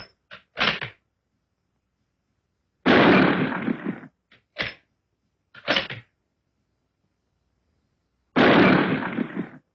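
A British anti-tank rifle fires several loud, sharp shots at irregular intervals, some followed by a longer rumbling tail, with silence between them and no voices.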